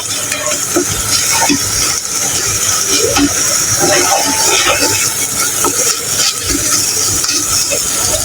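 Kahi fish fried with egg in a pan gives a steady, loud sizzle and hiss, with scraping stirs and clinks from the utensil throughout.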